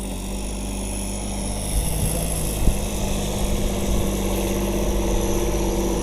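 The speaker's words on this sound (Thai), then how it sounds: "อันนี้นะครับผมรีวิวเสียงรีวิวห้องเครื่องให้ชมนะครับ" A turbocharged three-cylinder car engine runs steadily in its engine bay, a loud, continuous close-up drone with a persistent high whine and no talking.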